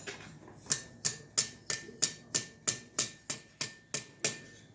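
Steady, evenly spaced blacksmith's hammer blows ring out on red-hot iron, about a dozen sharp metallic strikes with no talking.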